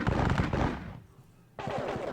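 Infantry grenadiers fire a musket volley in a Seven Years' War strategy game: a dense, crackling burst, a short lull, then a second loud burst of gunfire.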